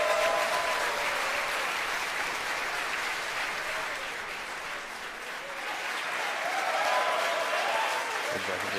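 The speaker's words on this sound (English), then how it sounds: "you hear the applause here from SpaceX headquarters in Hawthorne, California." Applause and cheering from staff at SpaceX headquarters in Hawthorne, California, during a rocket launch, a sustained crowd wash of clapping with voices mixed in, dipping briefly mid-way then swelling again.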